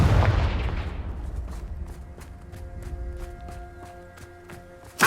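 A Confringo blasting spell from Hogwarts Legacy lands with a loud, booming burst that decays into a ringing tail, followed by a steady run of faint rhythmic taps and a closing thump.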